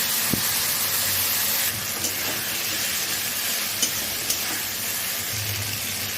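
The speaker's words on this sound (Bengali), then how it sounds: "বেগুনগুলো ভাজা হয়ে গেছে, এরপর আমি দিয়ে দিচ্ছি বাটা সরষেটা" Khoira eggplant pieces fry in a pan as mustard paste goes in, giving a steady, close hiss of sizzling oil with a few faint clicks and stirring scrapes and no talking.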